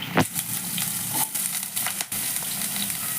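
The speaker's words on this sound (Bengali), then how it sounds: "এবার আলুটাকে আমাকে লাল লাল করে প্রথমে ভেজে নিতে হবে" Potatoes fry in hot oil in a kadai, giving a steady close sizzle and crackle with a few brief stirring scrapes and bumps, with no voices.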